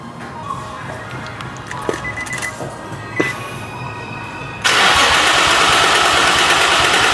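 A car with a swapped JDM engine: faint clicks and knocks, then the engine abruptly bursts into a loud, continuous roar that holds steady to the end.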